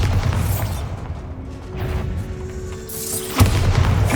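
A Bombarda blasting spell goes off in Hogwarts Legacy, a single loud boom with a sharp burst near the end over a rumbling game backdrop.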